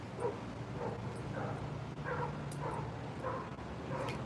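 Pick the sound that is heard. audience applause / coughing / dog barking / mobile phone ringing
dog barking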